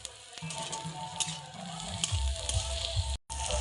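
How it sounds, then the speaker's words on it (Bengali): Onion and capsicum frying in a wok while cooking orange juice chicken, giving a steady, close sizzle with soft stirring scrapes and a brief cut near the end. "পেঁয়াজ ও ক্যাপসিকাম কষা হয়ে গেছে"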